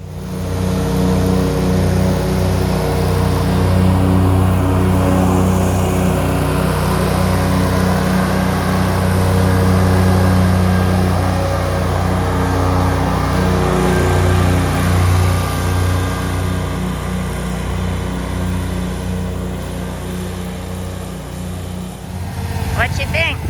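A zero-turn lawnmower engine runs steadily and loudly throughout, with a constant low droning hum and slight shifts in pitch, close by and continuous.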